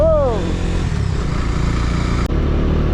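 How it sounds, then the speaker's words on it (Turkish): Several motorcycles on a group ride up a misty highland plateau road, engines droning loudly and steadily throughout, with a brief rising whine at the start and a short clunk near the end. "5 motor yayla turu."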